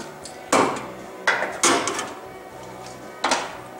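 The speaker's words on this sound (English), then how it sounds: "I think I'm gonna get this guy clamped right there" Sharp metallic clanks and knocks as a clamp is set and tightened onto a body panel of a Ford Fairlane, four distinct hits spaced irregularly, close and fairly loud in a quiet workshop.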